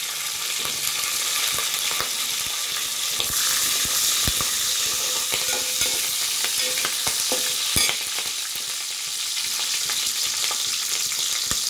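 Curry leaves and green chillies frying in hot oil for a baby shark bhurji, a loud dense crackling sizzle with scattered sharp pops and stirring clicks, no talking.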